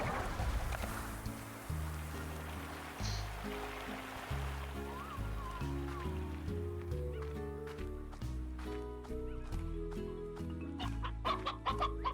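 Chickens in the Slime Rancher video game cluck over a steady, looping game music track, with short repeated clucks scattered throughout and growing more frequent toward the end.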